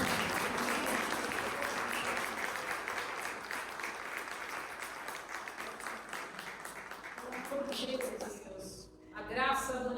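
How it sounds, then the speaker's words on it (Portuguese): A church congregation applauds during a Portuguese-language worship service, loud, dense clapping for about eight seconds, then fading as voices and a tonal sound take over near the end. "Aplauda o Senhor."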